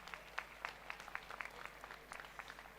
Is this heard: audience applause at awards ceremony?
yes